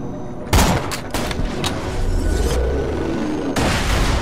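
Grenades explode in Borderlands: The Pre-Sequel, a sharp loud blast followed by several quick booming bursts and rumbling debris, then another heavy blast near the end, with no voices over it.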